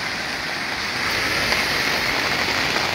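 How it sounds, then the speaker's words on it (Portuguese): Heavy afternoon rain pours onto an umbrella in Macaúbas, Bahia, making a dense, continuous hiss and patter close overhead with no pauses. "Ó o barulho da chuva aí caindo aqui no guarda-chuva, ó."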